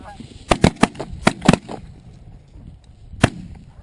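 Shotgun blasts on a guided waterfowl hunt: a fast cluster of sharp, loud reports, then one more shot a moment later, with goose honks and outdoor noise around them.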